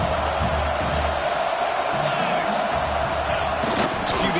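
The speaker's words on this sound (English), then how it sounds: "the crowd coming to life here, trying to help this defense down in the red zone" A football stadium crowd roars and cheers through a red zone defensive stand in a college playoff game, a dense, steady wall of noise with whoops rising over it.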